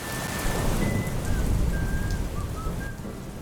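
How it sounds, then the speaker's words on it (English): A played recording of rain and thunderstorm for focus and sleep: a dense, constant hiss of rainfall over a low rumbling undertone, with faint bird-like chirps threading through, steady and unbroken. "Give me 1 hour rain and thunderstorm."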